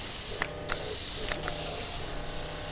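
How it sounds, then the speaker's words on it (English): A 24-volt soft wash skid pushes water mixed with soap and surfactant through a hose, giving a steady broad hiss with faint clicks and mechanical whirring across the short stretch. "just spraying water and a bit of soap and surfactant"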